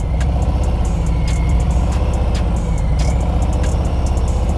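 A motorcycle engine idles and burbles at low revs during slow, clutch-controlled riding around cones, a loud, close, steady thrum with rapid even pulses and no talk.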